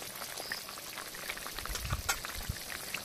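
Tilapia fish curry with Malabar spinach bubbles and simmers in a pan, giving a quiet continuous crackle and sputter. Soft pops land irregularly, and a few louder bursts come near the middle.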